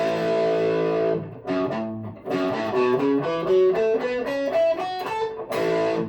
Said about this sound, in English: I've got a bit of distortion on the guitar from an earlier session.